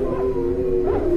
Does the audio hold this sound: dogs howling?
yes